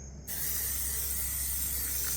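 Spray paint hisses in one steady, continuous burst as it coats gargoyle pillars, starting abruptly and holding at an even level to the end with no talking.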